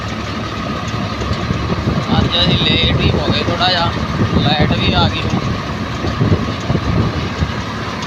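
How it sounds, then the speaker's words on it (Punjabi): A tractor engine runs with a low steady rumble on a farm during maize and sorghum sowing, largely covered by someone talking close by. "ਮੈਂ ਇੱਕ ਟਰੈਕਟਰ ਚਲਾਉਂਦਾ"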